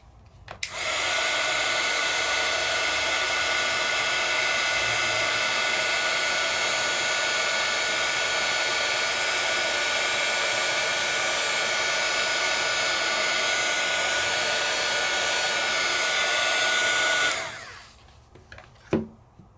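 A heat tool melts embossing powder on a stencilled card, blowing a steady, loud airy whir nonstop for about sixteen seconds before it shuts off, leaving brief faint handling sounds.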